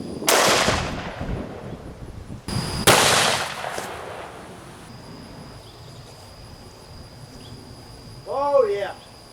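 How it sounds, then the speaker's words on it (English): Two loud, close gunshots from a Magnum Research BFR revolver firing 450 Marlin 500-grain full metal jacket rounds at body armor panels outdoors. Each sharp blast is followed by a decaying echo, then insects chirp quietly and a voice speaks briefly. "shoot two panels now with the Magnum Research BFR chambered in 450 Marlin with a 500 grain full metal jacket"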